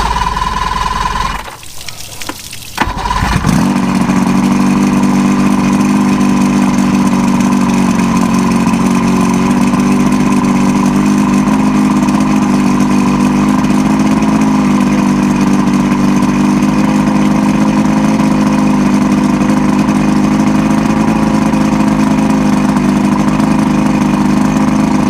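An Astroglass bass boat outboard engine sputters to life after a brief stumble, then settles into a steady, loud idle with a continuous low drone that runs unbroken to the end, no voices over it.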